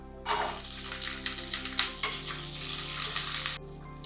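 Sliced onion drops into hot oil with browned ginger and garlic, setting off a sudden burst of bubbling sizzle that holds steady for a few seconds, then cuts off abruptly.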